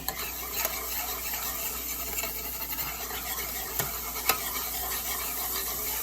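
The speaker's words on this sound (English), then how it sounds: "You're going to add a little flour, and you want to begin to stir right away so that that does not burn." Flour is stirred into melted butter in a pan to make a roux, a soft continuous scraping and gentle sizzle with occasional light clinks of the utensil against the pan.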